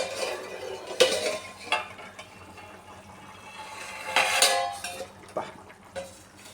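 A metal lid lifts off a cooking pot of simmering Bengali chicken curry with potatoes, giving a couple of sharp clanks near the start and a clatter midway, with soft kitchen scrapes between and no talk.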